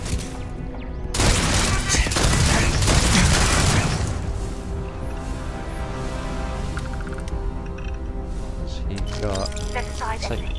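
Automated turrets in Starfield fire a dense burst of rapid gunfire that peaks early and then trails off into ringing game effects, with talk heard around the shooting.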